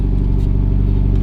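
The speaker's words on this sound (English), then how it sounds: "Now we just wait for the car to warm up because it's hella cold." A Mitsubishi Evo X engine idles steadily while warming up on a cold day, a close, even low rumble with a fine rhythmic pulse and no change in pitch over the short stretch.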